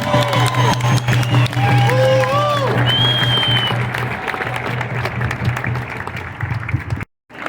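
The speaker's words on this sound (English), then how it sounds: "So will you please applaud for them all?" A rally crowd on the Colorado State Capitol grounds applauds and cheers, a dense steady wash of clapping with scattered voices and whoops, cutting off abruptly near the end.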